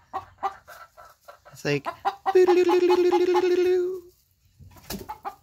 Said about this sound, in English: The other chicken scared him.